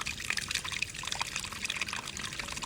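Muddy water trickles and pours steadily into a household water filter, a continuous close liquid splashing with faint dribbling detail and no talk.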